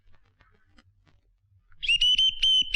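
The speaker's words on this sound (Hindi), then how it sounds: "इसकी तो सीटी बच गई है।" Someone whistles in a Hindi comedy scene, starting suddenly after a quiet stretch. The tone is loud, high and steady with a few brief breaks, over a low rumble.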